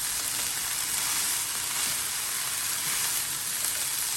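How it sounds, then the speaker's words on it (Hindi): Sliced bell peppers and cabbage fry in a hot pan for desi fried rice, a steady, even sizzle and hiss that holds close and constant throughout. "आप इनको अच्छे से फ्राई करते हैं।"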